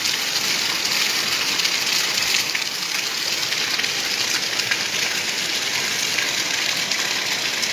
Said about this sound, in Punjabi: ਇਹ ਮੌਨਸੂਨ ਵਾਲਾ ਮੀਂਹ ਹੈ